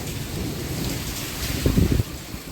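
Steady hiss of rain falling, with a brief low rumble of heavier impacts near the end.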